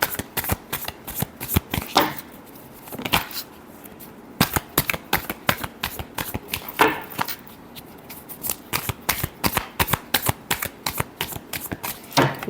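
Tarot cards are shuffled in a quick run of crisp riffles and slaps, with short pauses between bursts of shuffling and no voice over them.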